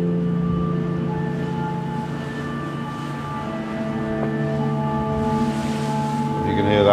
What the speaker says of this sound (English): That's the foghorn of the oil rig